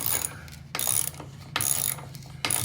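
A 1/2 inch ratchet tightening a 1/2 inch nut onto a carriage bolt while building a vintage camper frame, producing four loud, close bursts of rapid clicking with brief pauses between strokes and no talking.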